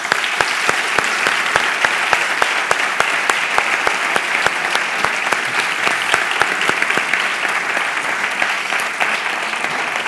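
Loud, dense audience applause filling a literary event hall after an author's talk, steady continuous clapping for about ten seconds with many distinct close claps and no speech.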